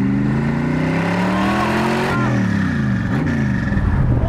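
A 500hp Shelby Cobra replica accelerates hard, its engine note climbing loud and close, dropping briefly at a gear change, then rising again with a raspy, throaty roar.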